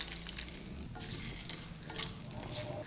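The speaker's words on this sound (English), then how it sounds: "I'm going to slowly roast the spices." Whole spices with red chilies, cardamom, cashew nuts and chana dal roasting dry in a pan, a soft crackling sizzle with scraping stirs, close and quiet, no voices.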